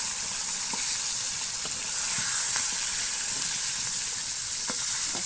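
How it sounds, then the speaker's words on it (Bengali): Fish pieces fry in hot oil in a pan for a tomato fish bhuna, a loud, constant close-up sizzle with occasional faint crackles and pops throughout, no voices. "এখন আমরা কীভাবে লাল লাল করে মাছগুলো ভেজে নেব"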